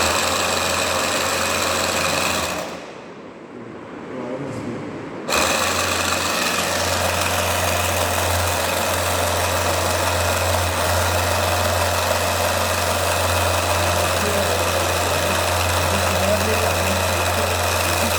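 A dual electric motor driven from a 12-volt supply to produce torque runs with a steady, loud, low hum and whine, briefly dropping away after a few seconds before starting up again and holding constant, with someone speaking over it.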